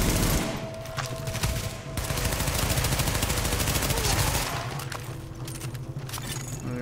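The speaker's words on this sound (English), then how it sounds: "This SMG does so much damage." SMG fire in the shooter The Division, sustained loud automatic bursts rattling almost without pause, with a brief break before the shooting resumes.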